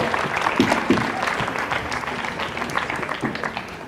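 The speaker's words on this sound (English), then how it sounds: "Big round of applause" Audience clapping at a national quiz finals, a crisp burst of many hands that holds for a few seconds and tapers slightly, with no voices over it.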